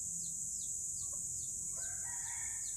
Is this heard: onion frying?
no